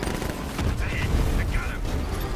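Gunfire in the Batman: Arkham Knight video game, a steady dense rattle of rapid shots under engine noise and game effects, with a voice heard briefly over the clatter.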